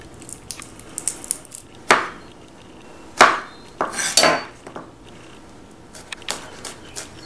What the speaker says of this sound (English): We're going to start by mincing 2 cloves of garlic.